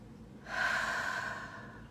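One slow, deliberate breath drawn in and let out close to the ear, a soft airy rush that swells and then fades in a quiet room.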